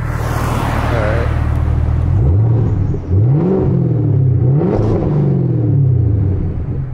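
A straight-piped 2023 Chevrolet Camaro ZL1 with an automatic transmission, parked and idling with a loud, deep rumble, then revved in several quick rising and falling blips, close and alone.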